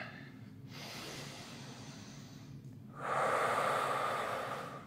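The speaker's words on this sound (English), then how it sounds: "3 big breaths. One last one." Slow, deep breaths during a wrist mobility and stretching class, first a long soft exhale and then a louder, rushing breath near the end, close and alone.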